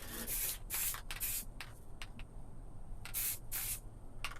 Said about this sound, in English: if you want a good adhesion and no paint defects, one of the best things you can do is a mist coat like this.